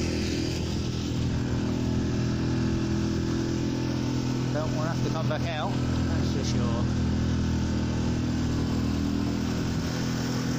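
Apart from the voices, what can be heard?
boat engine running while motoring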